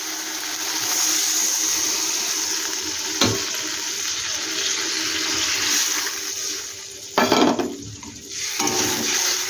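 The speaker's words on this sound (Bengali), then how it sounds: "এবার আমি জল দিয়ে দিচ্ছি।" Water poured into a cooking pot for a papaya curry, a continuous rushing wash of liquid with a couple of sharp knocks against the vessel partway through.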